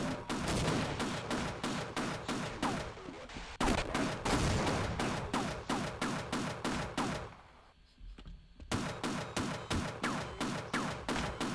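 Rapid automatic gunfire in Half-Life, fast evenly spaced shots in long loud bursts, with a brief lull before the firing resumes.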